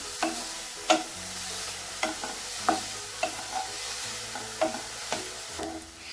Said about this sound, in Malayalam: ക്യാരറ്റിൻ്റെ വെള്ളം വറ്റി വരുന്നത് വരെ നമ്മൾക്ക് ഇതൊന്ന് ഇളക്കി കൊടുക്കാം.